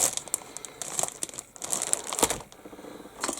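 Non-resealable plastic bags from a Zoukei-Mura 1/32 Messerschmitt Bf109 G-14/U4 model kit are crinkled and handled up close, a steady run of crackling rustles with short pauses.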